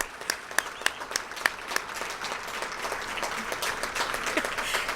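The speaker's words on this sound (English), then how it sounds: "He gets his own round of applause." At a fire department awards banquet in Columbus, an audience applauds an honoree; a few distinct early claps quickly fill into steady, continuous applause.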